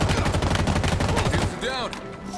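Rapid automatic gunfire in Halo Infinite, a loud close burst that cuts off after about a second and a half, then quieter game sounds with a short rising tone.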